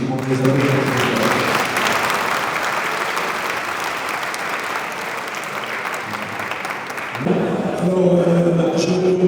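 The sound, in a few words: dinner audience applause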